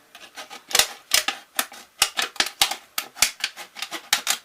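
Scissors snipping through a flat piece of aluminum pop can, a rapid, close series of sharp metallic clicks in an uneven rhythm, with no one talking.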